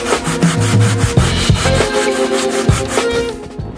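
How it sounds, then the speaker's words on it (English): A glued Boba Fett throne base piece is hand-sanded with quick back-and-forth strokes, a loud, close, rhythmic scratchy rubbing with no voices. "The top piece here needs a little bit of sanding because they don't match exactly."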